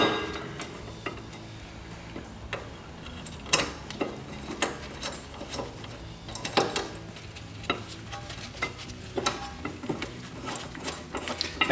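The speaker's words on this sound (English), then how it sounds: "Let's put our new rotor on here. Let's put our bracket back on for the caliper." Metal parts clink and clunk as a new brake rotor and caliper bracket go onto a 1993 Nissan NX2000, with scattered close taps and scrapes over quiet shop background.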